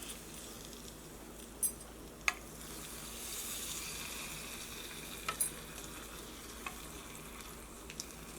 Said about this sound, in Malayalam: അപ്പോൾ ഇനി നമ്മുടെ കറിയിലേക്ക് താളിച്ച് ചേർക്കാം.